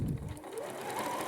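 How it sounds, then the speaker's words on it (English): A sewing machine runs forward on a straight stitch through fabric, a short, steady mechanical hum heard up close with no talking. "You're going to go forward on your straight stitch,"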